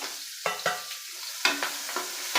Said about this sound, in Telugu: బాగా కలబెట్టుకోవాలి దోరగా మరిగిన తర్వాత కావాల్సిన మసాలాలన్నీ వేసుకొని